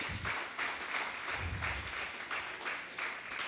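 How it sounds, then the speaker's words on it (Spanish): Church congregation applauding as an offering of praise, a steady sustained clapping that fills the room at moderate level with no talk over it. "Dele una ofrenda de palmas al Señor."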